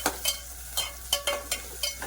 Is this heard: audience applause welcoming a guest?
no